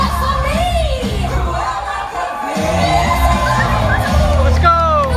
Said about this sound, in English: Cheer! For fashion! Now cheer for me!